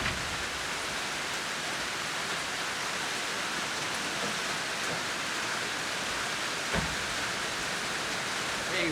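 Steady rain near the Inland Blue Hole in Belize falls as an even, dense hiss that stays constant throughout, with one faint knock partway through and no talk.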